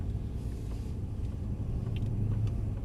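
A Mercedes C63 AMG drives slowly around a driving-experience circuit, giving a low, steady engine and road rumble heard from inside the car, fairly quiet and continuous with no talk.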